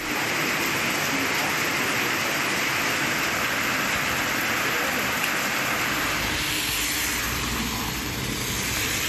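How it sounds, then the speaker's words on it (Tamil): Heavy rain driven by strong wind in rural Tamil Nadu, a dense continuous broadband roar that stays loud and steady throughout with no talk. "பலத்த காற்றுடன் மழை பெய்தது"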